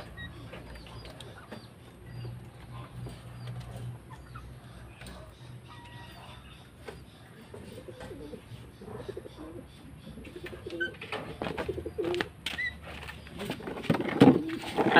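A pigeon coos in a low, repeated pattern under steady outdoor background noise, with faint chirps and some rustling building toward the end.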